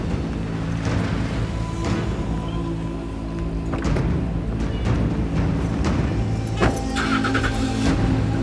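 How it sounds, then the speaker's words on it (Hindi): A car engine runs steadily throughout, with a few thumps like doors closing and a faint rise as the vehicle pulls away, no voices heard. "अलमास गाड़ी में बैठो, चलो।"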